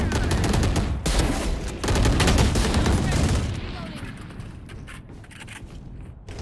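Rapid bursts of Valorant gunfire crackle loudly for the first few seconds in dense volleys, then thin out into quieter game ambience.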